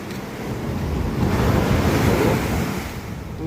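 Strong ocean surf pounds the shore at Baler, a loud, continuous roar of crashing waves with wind buffeting the microphone, swelling toward the middle and easing near the end.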